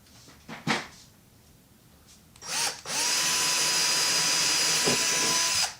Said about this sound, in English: we are going to go ahead and drill a hole where we marked right over here.